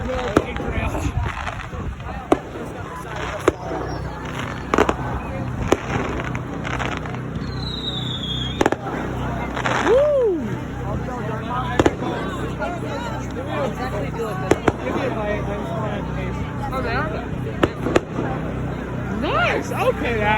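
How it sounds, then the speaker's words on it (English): A fireworks show at a high school pep rally brings scattered sharp bangs and pops, with a whistling rocket rising, over a constant crowd hubbub and nearby talking and cheering. "Give me my American explosions."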